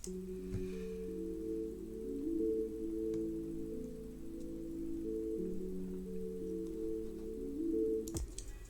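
A muffled, low-register downsampled guitar melody plays alone, dull and filtered with the highs stripped away, over a steady low hum with clicks at the edges.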